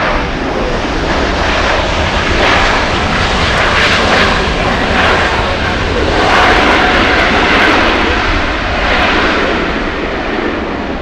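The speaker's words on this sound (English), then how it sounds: "runway 24 left, clear for takeoff." Airliner taking off from LAX runway 24 left, a loud, continuous engine roar that holds steady and swells slightly as the aircraft powers down the runway.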